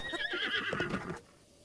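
A horse in The Legend of Zelda: Breath of the Wild gives a single loud, shrill whinny with snorting and hoof sounds, lasting about a second before cutting off to quiet game ambience.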